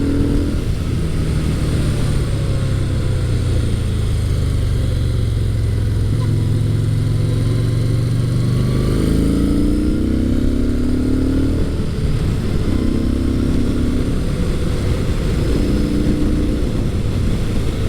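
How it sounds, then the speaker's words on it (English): Stock-exhaust V-twin motorcycle engine from an adventure bike shootout, rumbling steadily and close, with rising and falling revs through the middle and end. "This motor definitely has character. It sounds nice, even with the stock exhaust. I could get some of that V-twin rumble."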